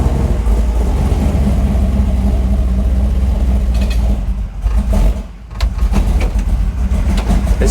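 An engine fitted with an Edelbrock VRS 4150 carburetor runs at a rough, loud idle nearby, a continuous low rumble that dips and nearly stalls briefly before picking back up.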